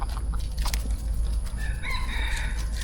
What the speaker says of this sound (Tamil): சேவல் கோழி இங்கே இருக்குது பாருங்கள்.